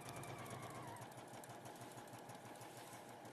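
A sewing machine stitching at full speed gives a continuous fast mechanical whir with a rapid, even needle rhythm, close and steady throughout, no talk.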